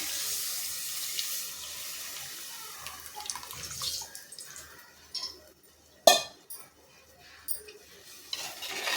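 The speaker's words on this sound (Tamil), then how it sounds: "இதில் நம்ம கரைச்சி வச்சுருக்கோம் இல்லையா புளி தண்ணி, அதையும் ஊற்றணும்" Tamarind water is poured into a pot of fish curry, a soft, intermittent splashing and trickling of liquid close by, punctuated by a sharp clink of a utensil against the vessel.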